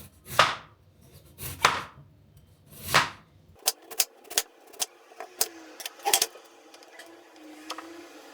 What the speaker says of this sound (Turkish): Çok kalın kesmiyorum çünkü pişmez.